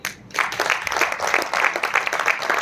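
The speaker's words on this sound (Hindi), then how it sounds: "उनके लिए जोरदार ताली बजाइए।" Audience applause at a motivational talk, steady dense clapping from a crowd that starts after a moment of quiet and continues throughout at a moderate, even level.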